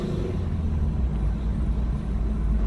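Low, steady rumble of a 2007 Mitsubishi Eclipse accelerating around a neighborhood block, heard from inside as a dull droning engine note without any talking.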